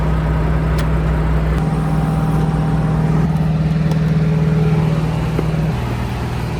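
A Volvo truck engine under gentle acceleration on a highway drive: a loud, steady low rumble with a constant droning tone, shifting slightly in pitch as the engine works, heard from inside the cab with no talk.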